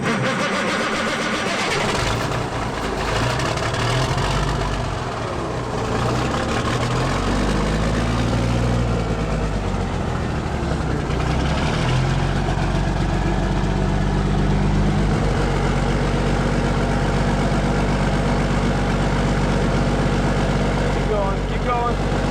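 A Kenworth truck's diesel engine idling, a steady low rumble that persists throughout, with people talking over it.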